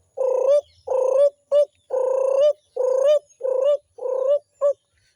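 A person's voice imitates a waterhen's call, giving eight loud, close hooting coos in an uneven rhythm with short gaps between them.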